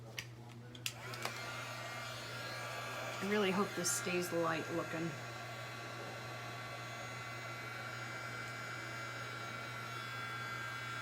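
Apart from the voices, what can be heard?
hair dryer melting wax on chalked canvas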